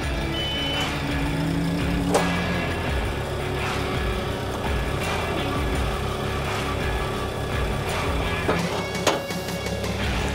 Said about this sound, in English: extract the outriggers